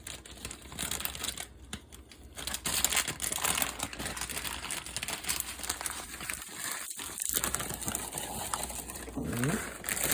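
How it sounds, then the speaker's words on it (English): Ruffles potato chips pour from a bag into a snack mix, making a loud, close crinkling and rustling that goes on steadily, with crunchy shuffles as they settle. "And we're gonna drop our Ruffles in there."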